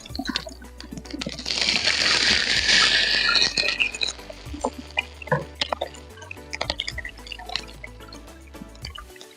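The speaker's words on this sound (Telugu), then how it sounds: "కొద్దిగా వాటర్ పోసుకుందామండి" Water is poured into a pan on a low stove flame with a bright, rushing hiss for a few seconds, followed by scattered drips and light clinks.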